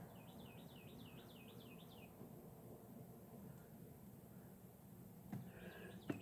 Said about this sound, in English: Birds are talking, Jack.